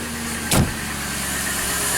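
A car engine cranks and catches in a short loud burst, then settles into a steady low idle that continues alone.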